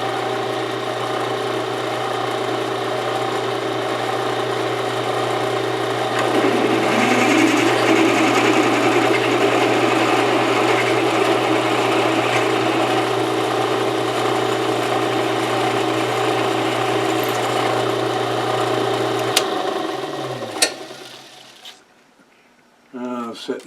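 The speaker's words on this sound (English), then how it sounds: "Just drill this last 1/4 inch." A drill boring the last quarter-inch hole through metal during rotary table modifications, a steady humming motor drone with rising cutting noise midway, winding down to silence near the end.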